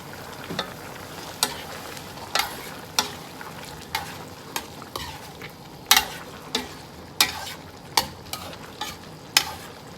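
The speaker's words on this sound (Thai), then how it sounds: "ตอนนี้เนาะเขาใส่เต้าหู้ที่เขาตัดเป็นท่อนสี่เหลี่ยมเตาลงไปเลยจ้ะ" Square-cut tofu pieces frying in hot oil for Vietnamese-style braised pork, a steady sizzle punctuated by sharp bursts of crackle and spatter at irregular intervals, close and fairly loud.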